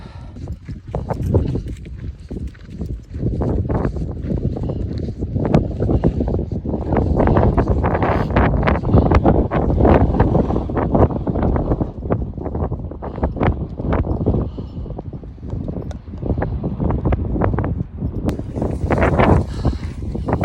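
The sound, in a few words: strong wind blowing outdoors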